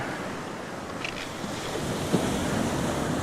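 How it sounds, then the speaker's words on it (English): Ocean surf at an incoming tide on a beach at 1770, Queensland, Australia, washing in as a steady broadband roar with wind noise on the microphone and a brief louder surge near the end. "these waves are really coming up to my feet"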